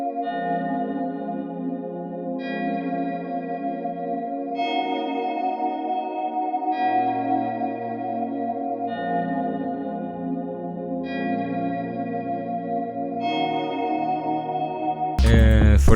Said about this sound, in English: Then I add this pad from Omnisphere called Pad Ferrari